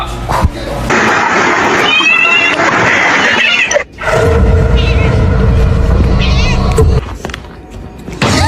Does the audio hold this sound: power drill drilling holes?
no